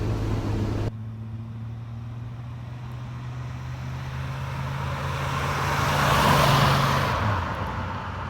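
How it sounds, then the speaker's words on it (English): A 1987 Chevrolet S10 pickup cruises along a road, its engine a steady low drone from inside the cab with road noise swelling briefly near the end, and no talking. "All right, let's pull over and let Tim get at the wheel."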